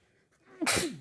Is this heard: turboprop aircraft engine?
no